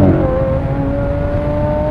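A low-slung car on big tires accelerates hard, its engine roaring loud and close in a steady sustained drone with a rising whine running through it, no voices over it.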